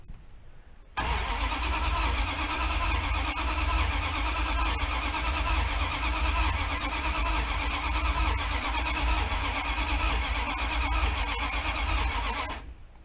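A Dodge Ramcharger engine cranks and turns over after sitting more than two years, a loud, close, continuous mechanical churn with a squealing edge that holds steady for about twelve seconds before cutting off.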